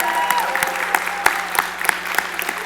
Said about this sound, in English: Dan Lachcik, give him a clap.